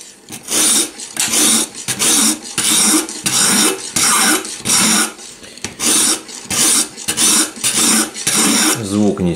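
Scissors are drawn across a homemade sharpener braced against a table edge, giving about a dozen harsh, rasping strokes in a steady back-and-forth rhythm, each separated by a brief gap.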